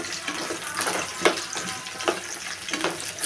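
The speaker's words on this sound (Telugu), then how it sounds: "దొండకాయ వేసుకొని ఫ్రై చేసుకోవాలి." Chopped tindora (ivy gourd) frying in hot oil over medium to high flame for a masala curry, a dense close sizzle with recurring louder bursts as the pieces are stirred.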